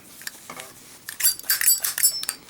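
Metallic clinks and a sharp snap of a Zippo lighter lid with steel insert flipping open, a few quick bright clicks close by, no talking.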